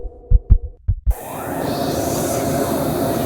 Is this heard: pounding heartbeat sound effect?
yes